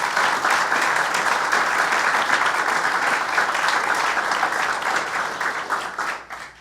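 A crowd at an outdoor pavilion announcement at the Saratoga racecourse gives a full round of applause, dense and even before tapering off at the end, with no voices.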